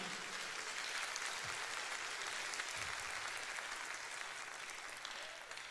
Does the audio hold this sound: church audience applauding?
yes